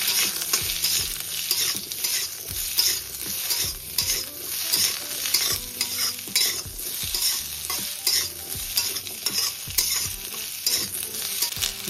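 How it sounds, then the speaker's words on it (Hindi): Potato pieces sizzle and fry over high flame in a pan with besan and peanuts, with steady stirring scrapes and clinks against the pan throughout, close and continuous, no voices. "हाई फ्लेम रे आलू गुड़ा को आम 2-3 मिनिट भाई फ्राए करिए।"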